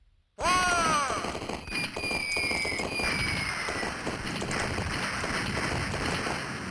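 Cannons fire in the arcade game Rampart with an abrupt loud burst, followed by descending whistling tones and a dense, sustained crackling roll of explosions.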